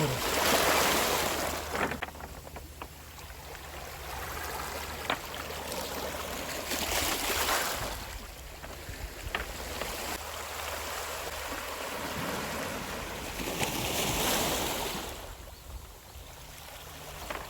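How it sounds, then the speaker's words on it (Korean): Waves break and wash over the stony pebble beach at Baegyado in Yeosu, with repeated surges of rushing surf and rattling water swelling and fading over a constant roar of wind. "이렇게 파도 치는 풍경을 잠깐 바라보기만 해도요"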